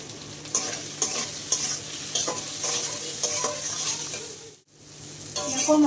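Spice paste for a rohu fish curry with potatoes, salt and turmeric being stirred and fried in a pan, a steady close sizzle with repeated scraping strokes of the spoon throughout.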